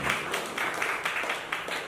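Applause from a press-conference audience for the Bollywood film Doctor 365: a faint, steady patter of many hands clapping with light rhythmic swells, no voices over it.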